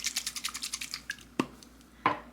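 Quick, rhythmic rattling shakes of an e.l.f. setting spray bottle, about a dozen in a row, followed by two short, sharp bursts after a brief pause.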